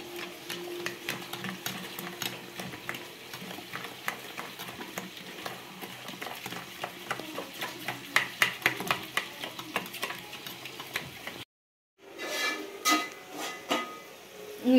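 Fish being mixed with spices and salt for fish biryani, a continuous wet stirring and scraping with soft clicks against the bowl, close and steady, briefly cutting out before resuming.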